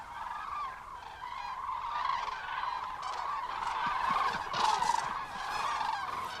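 Common cranes call in flight over Iberian forest, a steady chorus of rolling, bugling trumpet calls overlapping at moderate distance with no voices.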